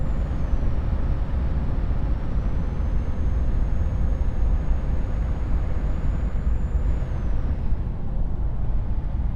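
A steady truck engine drones in a trucking video game while air brakes hiss continuously, loud and close, with no other sounds on top.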